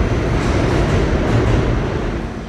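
A New York City subway train rumbling loudly and continuously, a dense, close roar of wheels and car noise with no clear breaks, easing slightly at the end.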